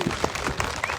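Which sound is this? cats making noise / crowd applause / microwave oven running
crowd applause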